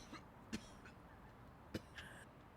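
A man coughs twice with a short throat-clearing, sharp bursts over a low, quiet room background.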